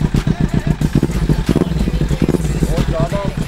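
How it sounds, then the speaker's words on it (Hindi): A Kawasaki Ninja 300 motorcycle engine idling nearby, a rapid rhythmic low putter running throughout beneath someone talking over it. "ये भाई इसका आइडल पे साउंड है।"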